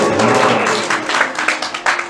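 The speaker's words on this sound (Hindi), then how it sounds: "ताली बजाओ जो करे" Listeners at a Shrimad Bhagavat Katha religious discourse clap their hands in a loud, close, continuous round with rhythmic pulses of claps running through it.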